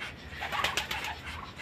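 A homing racing pigeon back in its loft after a morning race gives soft, close cooing calls, a few short rolling coos rising above a faint background hiss.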